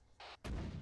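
A mortar fired in a military video game: a short muffled thump followed by a heavy, booming launch blast that rings out briefly, with no voices.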